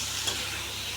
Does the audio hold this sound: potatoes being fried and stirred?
yes